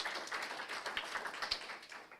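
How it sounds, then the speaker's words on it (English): Scattered audience applause with irregular hand claps, fairly thin and steady for a couple of seconds, at a conference session. "give a round of applause"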